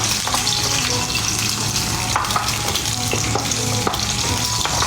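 Food stir-frying in a pan that is sticking, a steady dense sizzle with scraping stir strokes and faint water-like splashes, loud and close throughout with no talk.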